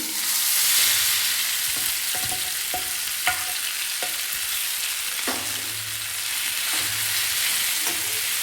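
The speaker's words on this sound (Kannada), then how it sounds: "ಈ ತುರಿದಿಟ್ಕೊಂಡಿರೋ ಮಾವಿನಕಾಯಿನ ಇದಕ್ಕೆ ಸೇರಿಸ್ಬೇಕು. ಉರಿನ ಲೋ ಫ್ಲೇಮಲ್ಲಿ ಇಟ್ಕೊಳ್ಳಿ. ನೋಡಿ, ಈಗ ತುಪ್ಪ ಬಿಸಿಯಾಗಿದೆ." Grated raw mango for gulamba stirred into hot ghee over a low flame produces a steady, close sizzle, with intermittent spoon scrapes against the pan throughout and no voices.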